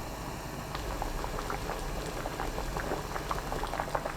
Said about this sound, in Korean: 뚜껑 열어둔 상태로 끓입니다. 팔팔 끓으면 센 불 그대로 그때부터 4분 더 끓여주세요.